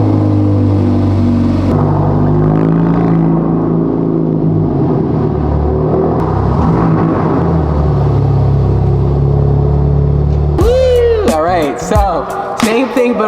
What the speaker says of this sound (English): Now I'm gonna turn the car around and do the other side.